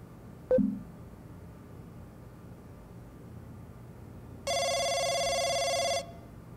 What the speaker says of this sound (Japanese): おい、電話が鳴ってるぜ。